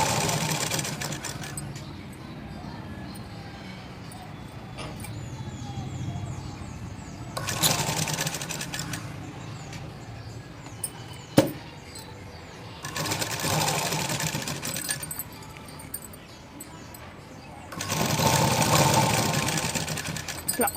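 A sewing machine stitching Punjabi pant fabric runs in several steady whirring bursts separated by pauses, close and fairly loud, with a brief sharp click partway through.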